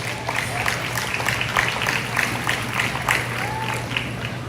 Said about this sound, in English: Give all three of these young ladies out here one more big round of applause